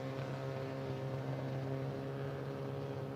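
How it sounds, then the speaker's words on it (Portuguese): Mercedes TCR touring car engines rev steadily at the start of a TCR South America race, a dense continuous drone with strong harmonic tones held at constant loudness and no speech. "sobe o giro dos motores em Mercedes"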